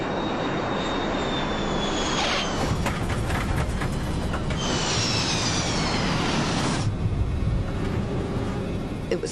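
A passenger airliner touching down in a rough, bumpy landing after sinking too fast, with a loud continuous engine and airframe roar, whining tones rising and falling, and heavy rumbling throughout.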